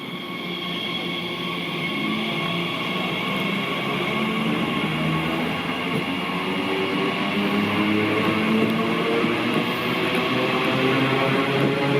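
A GWR battery train pulls away from a station platform, its low rumble and rising electric whine building steadily over twelve seconds at moderate distance.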